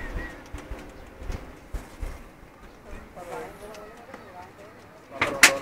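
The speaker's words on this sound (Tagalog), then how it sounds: "Paparong-rong ganyan yung kalapati." Racing pigeons in a loft give soft, intermittent coos and rustles at close range, heard under people talking, with a sharper burst near the end.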